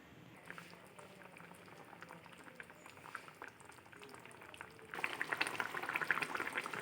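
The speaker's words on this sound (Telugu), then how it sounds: "కూర ఉడుకుతుంది" A pot of chidumulu pulusu curry simmering on the stove, giving a soft continuous bubbling that grows louder and busier toward the end, with no voices.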